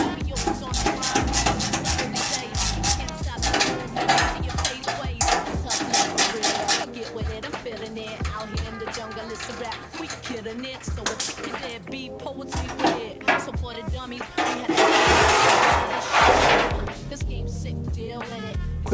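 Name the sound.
removing underbody plate from Nissan 350z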